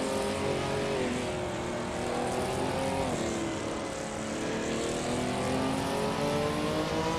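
Race cars in a racing game, including a 1997 Mitsubishi GTO Twin Turbo, roar continuously at full throttle, engine pitch climbing and dipping with gear changes, loud and close.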